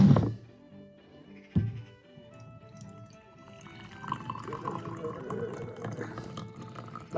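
Plunged black coffee is poured from a Union Coffee cafetière after a couple of soft thunks, a faint trickling stream of liquid building gradually and continuing close by.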